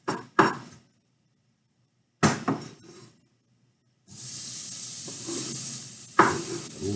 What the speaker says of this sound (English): A little sizzle going.